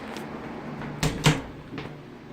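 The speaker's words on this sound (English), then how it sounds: "So I zip this down and it'll tuck all the way over, and then I close the door too." A grow room tent being zipped down and its door closed, heard as a couple of close, soft knocking and rustling thumps in a quiet indoor room.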